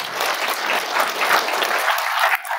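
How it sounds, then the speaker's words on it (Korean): A crowd at a Korean lawmaker's constituency report meeting breaks into applause, a full, even wash of many hands clapping that holds steady before tapering slightly at the end. "박수 한번 주세요"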